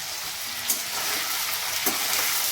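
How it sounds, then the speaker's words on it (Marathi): Palak paneer ingredients frying in a pan give a steady, close sizzle with a couple of faint stirring taps over the hiss. "फ्राय करून घेऊ।"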